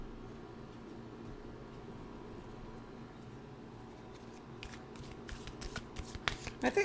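A deck of animal oracle cards is shuffled close by, a soft continuous riffle and rustle that builds into sharper flicks and snaps toward the end, with no voices.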